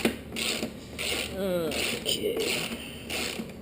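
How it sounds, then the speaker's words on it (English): A socket wrench ratchets on a 2011 Kawasaki Ninja 650R motorcycle during an air filter job, giving a run of quick clicks repeating in short bursts, with a brief spoken word over it. "make sure you actually use a socket tool so you don't go and scratch up your gas tank"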